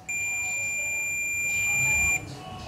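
Continuity beep from a multimeter while its probes trace the supply line on a phone circuit board: one steady, loud high-pitched tone holding for about two seconds and then cutting off, with no talk.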